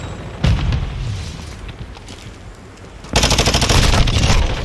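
Semtex grenade blast and rapid gunfire in a Call of Duty multiplayer hardpoint match: a sharp explosion bursts in, a quieter stretch follows, then a loud, dense volley of automatic fire continues to the end.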